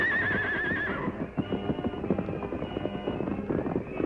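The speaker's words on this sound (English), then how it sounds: "the masked man swiftly loosened the reins of the outlaws' horses and sent them galloping away" Horses of outlaws whinny loudly at the start, then a rapid clatter of hooves gallops away steadily beneath the rest of the clip.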